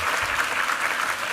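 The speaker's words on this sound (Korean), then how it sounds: "우리 하나님께 감사 영광의 박수 올려드리겠습니다" A church congregation claps during a Sunday worship service, dense continuous applause filling the room for the whole moment.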